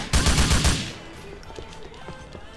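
Burst of rapid gunfire in GTA IV during a police-mod shootout: a loud automatic volley for under a second, then fading echoes and faint game ambience.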